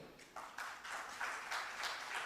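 An audience in a hall applauds a sign language interpreter at an event for persons with disabilities. Scattered claps begin after a short pause and quickly build into steady, faint applause heard from a distance.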